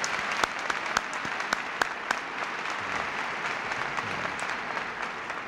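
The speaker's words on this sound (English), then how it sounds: "I'll applaud that too." Applause from a high school audience in Jacksonville honoring parents, a moderate steady patter of many hands with a few sharper nearby claps standing out, heard without talk.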